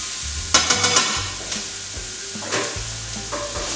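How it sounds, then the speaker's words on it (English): Fresh chilli is stirred into a sizzling vegetarian chilli in a pan. A spoon knocks and scrapes the pan in a quick cluster of taps, then a few more, over a steady frying hiss. "We'll stir around."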